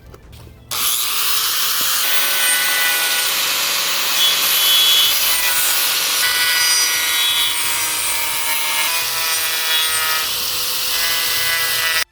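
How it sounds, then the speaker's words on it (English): A power tool grinds down the edges of wooden pieces for a rustic Texas flag, a loud, steady whining rasp that runs almost without a break after a brief start-up. "I'm gonna go ahead and get all my pieces grinded down"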